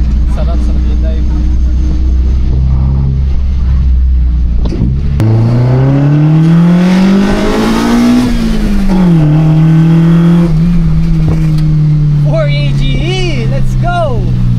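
A 2000 Toyota Levin BZR with a 4AGE engine drives and revs hard, the engine note climbing through the gears and dropping between shifts, loud and close, with a person speaking near the end.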